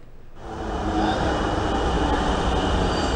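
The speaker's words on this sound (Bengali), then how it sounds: "গণপরিবহন মেট্রো রেল।" An electric Dhaka metro rail train running, its rumble swelling in after a quiet start into a steady, loud rolling drone with faint wheel squeal, no voices.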